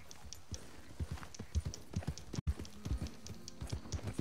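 Horse hooves clip-clop at a steady walking pace in Red Dead Redemption 2, a Kentucky Saddler horse, fairly quiet, with no one speaking.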